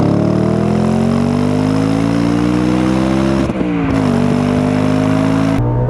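A 2006 Audi RS4 B7 Avant pulling hard in first gear from about 10 to 60 mph: loud, rising engine roar that climbs steadily, a brief dip at a gear change, then climbs again, close and continuous.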